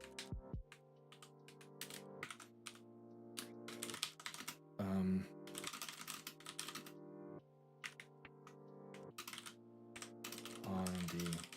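Someone types code on a computer keyboard in bursts of quick, close key clicks separated by short pauses, with a few heavier thumps and some faint background noise.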